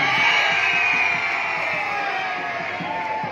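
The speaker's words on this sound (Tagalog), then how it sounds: "isang malakas na palakpakan, may kasamang sigawan!" A crowd cheering and shouting at a university acrobat and highwire show, loud sustained yells and whoops with clapping underneath, gradually easing off.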